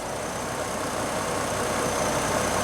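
A GM vehicle's engine runs steadily with a low, continuous hum and broadband rumble, close and constant throughout with no voices.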